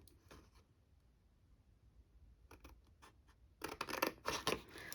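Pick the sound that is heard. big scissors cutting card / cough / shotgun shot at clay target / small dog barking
big scissors cutting card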